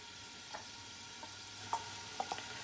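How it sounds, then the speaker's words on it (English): Sausage sautéing in a pan over a raised flame for a Tuscan soup, after the pancetta has been taken out: a faint, steady sizzle with a few soft, scattered pops and clicks, and no talking. "Now we saute the sausage."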